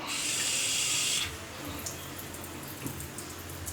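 Steady broadband hiss of a newly installed kitchen tap in a flat running for about a second, then stopping, leaving quiet room noise with faint small knocks.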